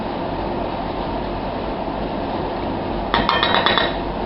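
Eggs beaten with milk in a bowl, a brief run of quick, light clinking strokes near the end, close by, over a steady broad background hiss.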